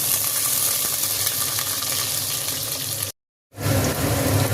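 Onions and whole spices fry in hot oil with a dense, even sizzling hiss close by, broken by a short silent gap before the crackle resumes.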